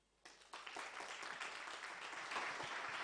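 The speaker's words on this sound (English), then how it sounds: "I think we can give him another round of applause." Applause rises at a climate and sustainability conference after a speech ends, a few first claps quickly swelling into a sustained, steady patter of many hands that carries on at a moderate level.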